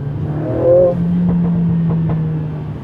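A 2020 Mercedes-AMG CLA 45 S 4MATIC+ engine revs up briefly then settles into a steady, loud drone, heard from close by inside the car, with no talking.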